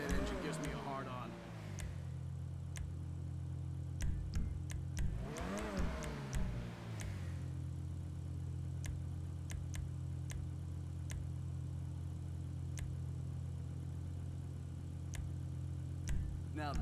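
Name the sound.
car engine revving and idling in a video game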